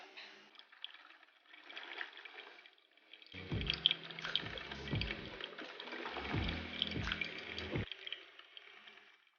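A home drip coffee maker brewing Folgers in a kitchen, with a steady trickle and gurgle of water that swells into a louder bubbling, sputtering run in the middle and then eases back to a faint trickle.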